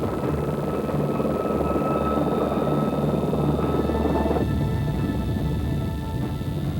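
A British Army Air Corps Lynx military helicopter from the Gulf War flies past with a loud, steady, droning rotor and engine roar that holds throughout.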